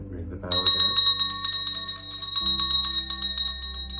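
A ritual bell struck during an ancestor offering, one bright sustained ring with a long shimmering decay, heard close and clear over a low background hum.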